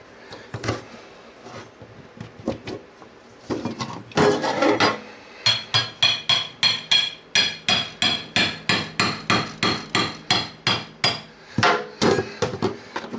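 Scraping and knocking as a regular straight-edge screwdriver pries fresh coconut meat out of the hard shell, starting with scattered scrapes, then a loud burst, then a steady run of about fifteen sharp, evenly spaced strokes close up.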